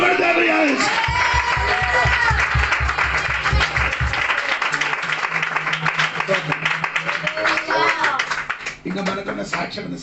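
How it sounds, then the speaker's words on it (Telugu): Church audience clapping during a Telugu Bible sermon, steady applause running throughout with a voice speaking over it and low musical tones underneath. "చప్పట్లు కొడతారు"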